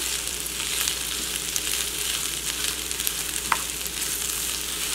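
Fresh greens fry down in a pan with bacon, garlic and onion, giving a continuous loud sizzle with crackling spatters and a brief stirring scrape, close and alone.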